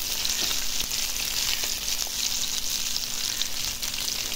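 Sea fish coated in spices sizzles in hot oil on a stove, a continuous close crackle with small pops scattered through it and no voices.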